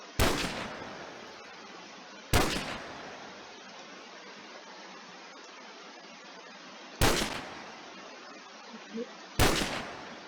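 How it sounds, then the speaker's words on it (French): Four loud, sharp rifle cracks from a Dragunov sniper rifle in the NationsGlory video game, spaced irregularly several seconds apart, each with a brief tail over a steady hiss of background noise. "Là, le Dragonov, c'est mon sniper préféré."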